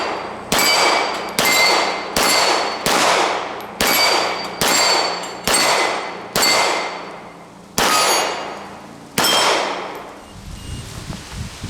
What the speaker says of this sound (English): Let's transition and shoot some steel right now.